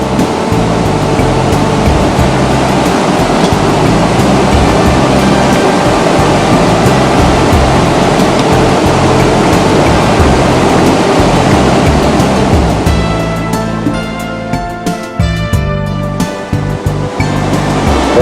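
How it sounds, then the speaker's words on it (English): A heavy waterfall with a lot of water pushing through roars as a loud, steady wash of broadband noise throughout, with no voices. "A lot of water being pushed through this waterfall."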